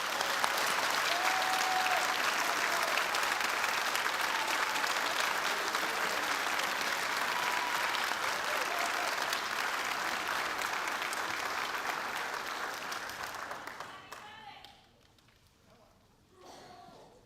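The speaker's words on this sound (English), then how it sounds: "Let's have a round of applause for our new initiates" Sustained crowd applause at a high school National Honor Society induction ceremony, steady and full for about thirteen seconds, then fading out, with faint voices afterward.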